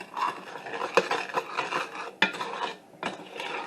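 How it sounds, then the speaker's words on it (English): Clear gel and sugar stirred together for blueberry pie filling, a dry gritty scraping and rasping close by, with a few sharper clacks of the spoon against the bowl, continuous and unaccompanied by speech. "Now, mixing the clear gel with the sugar"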